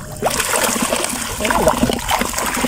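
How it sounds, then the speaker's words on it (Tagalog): Water rushing from a newly opened stream, a continuous splashing, trickling flow heard close, with a voice talking over it. "Kaya solusyon yung buksan yung sapa."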